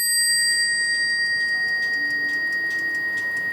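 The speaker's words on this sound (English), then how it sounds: "That sounds very much like a French bell metal cup bell" A French bell-metal cup bell on a weight-driven clock rings in a rapid, repeated series of bright strikes, each leaving a long, resonant shimmer, heard close and alone.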